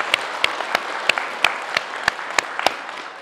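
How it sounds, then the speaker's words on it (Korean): A Buddhist temple congregation at a memorial prayer service gives a round of applause, a dense, moderately loud patter of many hands with a few sharp, distinct claps standing out at regular intervals throughout. "여러분들께 스스로에게 큰 박수 한번 보내주시기"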